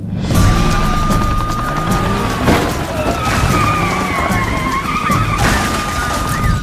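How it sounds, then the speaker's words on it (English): A Ford Mustang fleeing a police pursuit skids hard and crashes out, with tires squealing and the engine roaring loudly, then a heavy impact thump partway through and a second jolt near the end. "The pursuit ended with a tactical maneuver that sent his Mustang crashing out."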